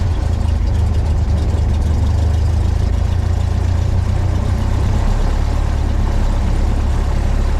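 A light aircraft piston engine idles on the ground at roughly 800 to 1,000 RPM before a hot, windy flight, a loud, steady low-pitched drone running continuously throughout.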